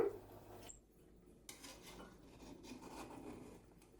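Mutton biryani made with coconut milk and seeranga samba rice being mixed with ghee in a pot, giving soft scraping and rubbing stirs of a utensil against the pot, fairly quiet, with a brief clink at the start.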